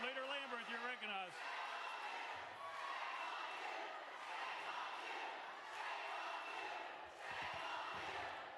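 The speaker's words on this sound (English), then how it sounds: "You may be able to make out that the crowd is shouting, "Shame on you."" An angry crowd chanting in the chamber of a state House of Representatives during a session, a muffled, rhythmic group shout heard from some distance, rising and falling under the room's ambience after a brief voice at the start.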